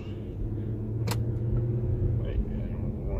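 An Infiniti Q50 AWD accelerating in rear-wheel drive mode gives a steady low engine rumble and road noise heard from inside the cabin, with one brief click partway through.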